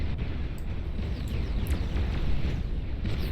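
Explosions in the strategy video game Beyond All Reason give a dense, continuous rumbling roar, with loud overlapping blasts and bomber aircraft battle noise filling the whole stretch.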